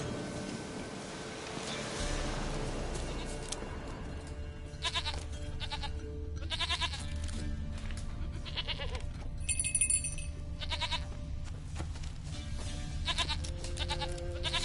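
Goat bleating in a video game, several short bleats scattered over steady background ambience, fairly faint and without speech.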